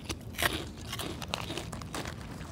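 Crunchy chicharon, a fried pork rind, is bitten and chewed up close, with sharp crackling crunches that repeat steadily through the clip.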